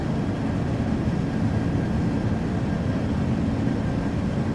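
Jet engines of an L-1011 TriStar in flight in Flight Simulator X, a loud, steady, broadband roar with a deep rumble and no variation, heard alone throughout.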